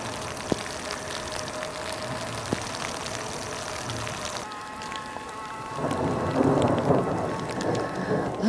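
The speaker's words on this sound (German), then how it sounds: "Dann fängt es wieder an zu donnern." Thunderstorm with heavy rain during an e-bike ride in western Slovenia, steady rain hissing on surfaces with thunder rumbling and the downpour growing louder toward the end.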